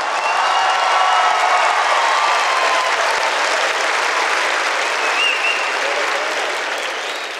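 Sustained, loud audience applause at the Zee Cine Awards 2005 ceremony, a dense wash of clapping that holds steady throughout and fades slightly at the end.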